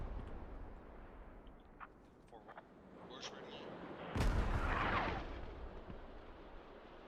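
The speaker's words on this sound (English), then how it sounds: "this is going to be Ukrainian artillery" Ukrainian artillery fire in the military video game Squad: one heavy, booming impact lands around the middle over a low ambient rumble, with scattered smaller distant pops before it.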